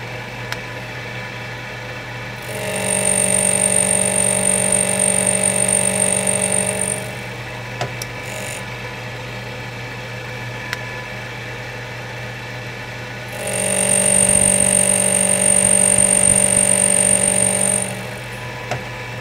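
Lathe turning jaws for a 10-inch diesel piston chuck, running in two long steady bursts of tonal motor hum and high whine with a quieter idle hum between them, close and loud.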